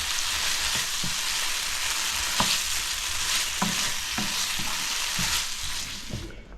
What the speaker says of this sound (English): I'm just trying to sort of mix it in and seal the spices around it